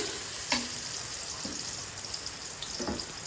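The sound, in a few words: stirring food frying in a pan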